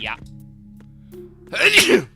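A single sharp sneeze bursts out near the microphone, preceded by a brief spoken word and a quiet electronic hum.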